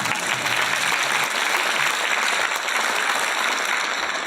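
Audience applause in a church during a sermon on husbands, a dense, steady clapping that fills the room for several seconds with no voices over it.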